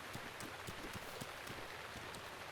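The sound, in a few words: rain falling in the video game Breath of the Wild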